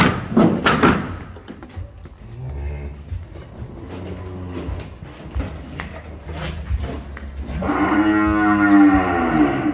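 Cattle newly brought to a farm moo nearby, with a short low moo early on and a long, loud bellow near the end, amid scattered thumps and knocks.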